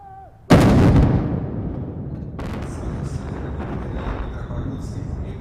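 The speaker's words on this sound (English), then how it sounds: "The salvo of the cannons of the Imperial Pulse Fortress are the signal for the beginning of the celebration." Cannon salvo fired from a fortress at a naval parade in St Petersburg: a loud sudden boom followed by a long rumbling roll and echoing, with a second fainter report and crowd noise after.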